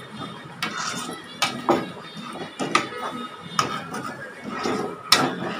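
A spoon scrapes and clinks against a pan while mint chicken gravy is stirred, giving irregular metallic knocks and scrapes at moderate volume.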